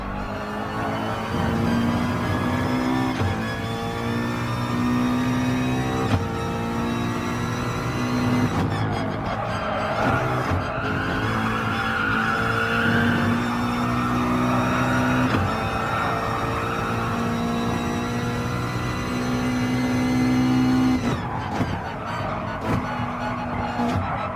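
A race car engine roars at Spa-Francorchamps in Gran Turismo Sport, holding steady high revs with smooth gear changes and brief dips, loud and continuous throughout with no talking.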